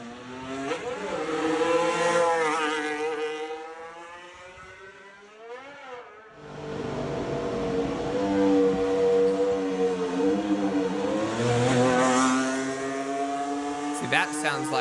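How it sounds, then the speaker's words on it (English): Formula 1 cars running during shakedown testing, engines droning and shifting pitch as they pass, with a brief dip in the middle before the loud engine sound returns; voices talk over it throughout. "Then we can listen to the engines."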